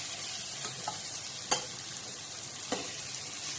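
Capsicum sautéed and stirred in a pan makes a soft continuous sizzle with occasional spoon scrapes and one sharp clack, faint and close, with no one talking.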